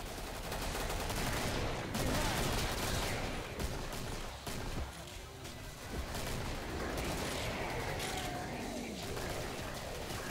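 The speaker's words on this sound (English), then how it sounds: "Because I already hear the gunshots." Bursts of rapid gunfire and scattered shots from the video game Killing Floor crackle almost constantly amid busy, dense background noise, with occasional faint voices.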